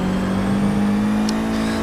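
A race car engine in Forza 6 at Brands Hatch, an Audi chasing a Noble, revs loud and close with a strong steady drone that climbs slightly as it accelerates, with no talk over it.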